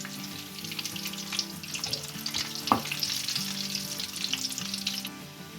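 Chicken drumsticks frying in hot oil give a steady, close sizzle, with a spoon stirring and scraping through the pan partway and one sharper clink, and no talking.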